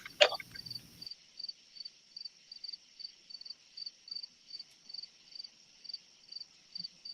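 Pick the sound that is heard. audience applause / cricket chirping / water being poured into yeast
cricket chirping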